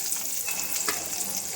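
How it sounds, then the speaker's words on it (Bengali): Three eggs fry in a pan with a brisk, close sizzle and light crackling spatter, joined by a faint scrape of stirring over a brief stretch. "3টে ডিম ভেজে নিচ্ছি"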